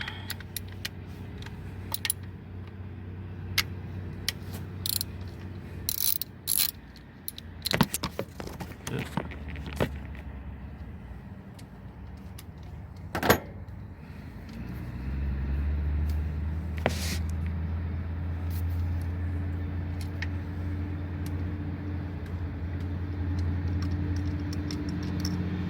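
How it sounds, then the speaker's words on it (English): Bolts on the ignition coils of a Toyota engine are loosened by hand during valve cover gasket work, giving scattered metallic clicks, ratchet rattles and light clinks against a steady low hum, with a few sharper knocks along the way. "undo the ignition coil bolts"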